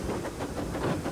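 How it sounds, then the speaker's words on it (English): A steam locomotive pulling away with coupled trucks lets out a short, continuous whooshing hiss of steam with faint rhythmic pulses, close and fairly loud. "whooshing a cloud of steam"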